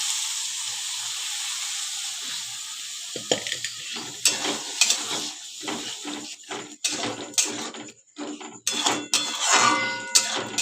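Boiled lentils (dal) stirred into a pan of spiced banana flower curry, giving a steady close sizzle and hiss with scraping spoon strokes and occasional clanks against the pan.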